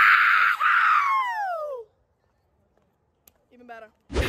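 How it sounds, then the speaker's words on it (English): A group of girls at their last high school dance scream together in one long, loud, shrill burst. The voices slide downward and cut off, leaving quiet before brief chatter resumes. "we gotta scream one time"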